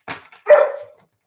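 A dog gives a couple of barks indoors: a short first bark, then a longer, louder bark that trails into a whine, close by with no talking.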